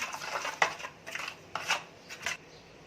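Spice masala being mixed by hand in a bowl for dhaba-style chicken curry: soft rubbing, rasping strokes in several short bursts, close and fairly quiet, with no talking.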